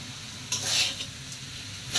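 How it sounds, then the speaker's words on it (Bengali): A ghee and condensed milk dessert is stirred in a pan, giving a soft steady sizzle with a brief louder scraping swell near the middle, close and alone. "এখন এই কনডেন্সড মিল্কটা দেওয়ার পরে এগুলো ভালো করে আবার নেড়ে চেড়ে দিতে হবে সুন্দরভাবে"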